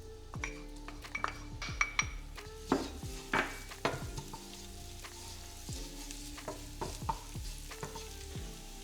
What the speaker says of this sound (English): And let's get our garlic going.